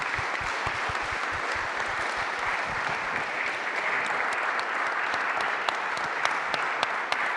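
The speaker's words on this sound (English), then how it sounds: "I kindly ask you to give a big round of applause for all the president." Conference audience applauding a panel of presidents at a control and automation event, a dense, steady round of clapping that stays even throughout, with individual claps standing out near the end.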